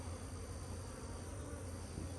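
Honey bees swarm around hive boxes at a cow pasture apiary, a dense, even buzzing drone that fills the air up close and never lets up, with no talking.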